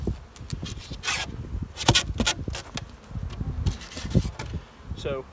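Honey bees buzz around an opened beehive during a beginner beekeeping class, a close, wavering hum mixed with scraping and knocking of wooden hive parts and sharp bumps handled near the microphone.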